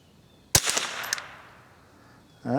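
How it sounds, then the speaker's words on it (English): One suppressed .22 rifle shot using CCI .22 Quiet ammunition, a sharp crack followed by a rattle of the action cycling and a short fading tail, then a voice begins at the end. "All right, here we go. Loaded up, ready to shoot."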